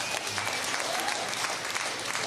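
An audience at a French-language stand-up comedy show applauds, steady dense clapping filling the room throughout, fairly close.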